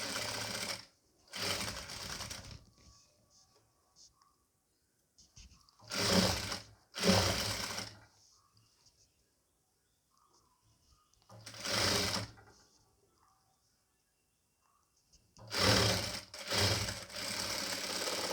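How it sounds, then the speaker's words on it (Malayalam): An electric sewing machine stitching the neckline of a nighty runs in several short bursts with quiet pauses between them, steady and fairly close. "ഒന്ന് കഴുത്ത് തയ്ച്ചു കൊടുക്കാം കേട്ടോ"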